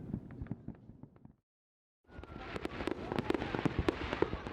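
Distant fireworks over the Fuji Five Lakes, Japan, popping and crackling in rapid irregular bursts, broken by a short silence before a denser, louder volley resumes.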